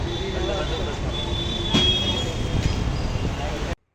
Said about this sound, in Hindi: रेलवे स्टेशन से भी सिकंदराबाद की पहचान है।